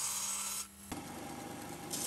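Wood is trimmed and filed for a small birdhouse, with a close, dry rasping rub that briefly dips and then resumes steadily, capped by a short sharp knock.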